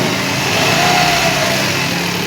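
Engine of a new Mitsubishi Mirage G4 with a faulty drive belt, held at a steady, loud, close drone with a faint rising whine, no pause and no voices.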